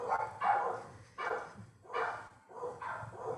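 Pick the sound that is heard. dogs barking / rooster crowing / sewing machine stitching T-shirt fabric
dogs barking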